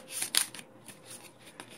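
La Isla board game tiles being shuffled by hand, a brief patter of light clicking and scraping taps, close and fairly soft, with no talking.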